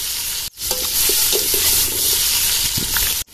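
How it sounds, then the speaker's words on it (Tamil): Sliced onions land in hot oil and fry loudly in a pan, a sudden burst of dense, crackling sizzle that carries on steadily and close, with a few faint utensil knocks and no voices. "எண்ணெய் காஞ்சிருது, வெங்காயம்"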